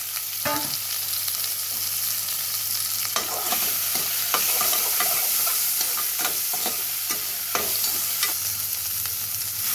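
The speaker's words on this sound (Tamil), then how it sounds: "இப்போ அதை வந்து எல்லாத்தையும் ஒன்றா சேர்த்து நல்லா வதக்கிக்கலாம்" Crushed ginger, garlic and shallots sauté in hot oil with a continuous close sizzle, broken by frequent scraping and stirring strokes of a utensil against the pan.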